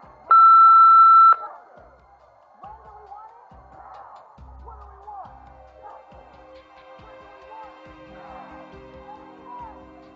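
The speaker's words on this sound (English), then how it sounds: "Tell me everything you want to say after the beep." An answering machine in the Nancy Drew: Midnight in Salem game gives one loud, steady electronic beep lasting under a second, followed by faint scattered clicks and low tones.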